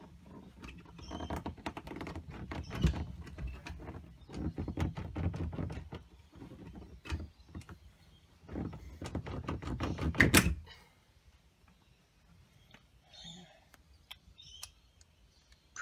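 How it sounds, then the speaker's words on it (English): An iknoic entrance knob lock being forced open by hand: irregular metallic rattling, clicking and clunking for about ten seconds ending in a sharp snap, then near quiet with a few faint clicks. "I'm just going to see if I can open it with my bare hands."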